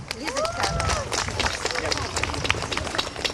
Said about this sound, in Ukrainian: Будь ласка, ваші оплески.